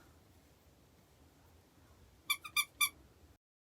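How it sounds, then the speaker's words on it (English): A toy squeaker meant for the stuffing of a small crochet octopus gives four quick, high squeaks close together near the end, after a stretch of quiet room noise. "Take a little bit of your fluff and place the squeaker inside."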